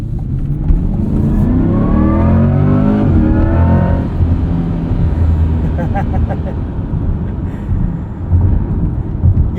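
A 2024 Chevrolet Corvette E-Ray accelerating, its rising engine note climbing in pitch as it pulls hard, then settling into a steady road roar heard from inside the car, loud and close.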